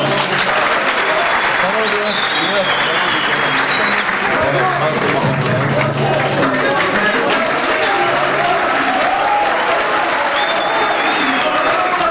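Sustained loud applause from a crowd at a football player's signing ceremony at Bursaspor, filling the whole stretch with steady clapping and cheering, with voices mixed into the noise.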